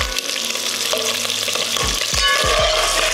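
Meat browning in its own grease in a skillet for red beans and rice, a steady loud sizzle with a few scraping stir strokes near the end.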